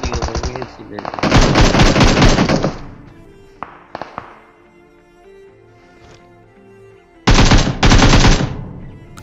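Automatic fire from an M416 or M762 rifle in PUBG crackles in two loud sustained bursts, with scattered single shots and quieter game ambience in between, then another long heavy burst near the end.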